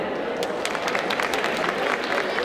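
An audience at a hypnosis show claps in dense, steady applause with a few voices mixed in, loud and close throughout.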